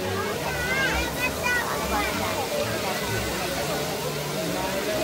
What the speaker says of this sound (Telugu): ఇక్కడ వాటర్ ఫౌంటైన్ లేజర్ షో జరుగుతుంది